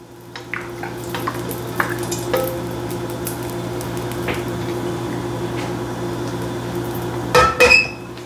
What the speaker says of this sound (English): with a little avocado oil. Get your wok coated in it.